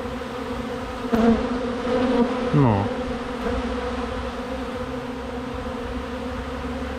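Thousands of honeybees swarm around a beekeeper taking off honey, a thick continuous buzz close by, with individual bees whining past in swooping pitch; someone speaks one short word briefly.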